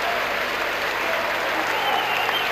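Crowd applause for a made basket at a 1987 Yugoslavia versus United States basketball game in Bormio, a dense, steady wash of clapping from a large arena audience throughout.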